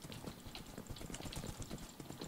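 Horse hooves clip-clopping in the Minecraft video game, a quick, steady run of hoof clops close by with no voices.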